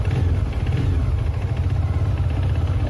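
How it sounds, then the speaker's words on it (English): A 400cc, 35 bhp motorcycle engine idles near a tunnel by an expressway off-ramp, with a steady low throbbing rumble up close and continuous with no pauses. "The normal engine sound"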